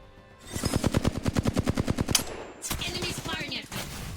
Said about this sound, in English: Enemies firing at me.